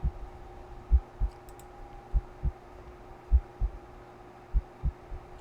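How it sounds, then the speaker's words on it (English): A heartbeat pulses in a horror video game about a demon cat, a low, close, steady lub-dub thumping that repeats in paired beats about once a second over a faint hum. "I don't like the heartbeat."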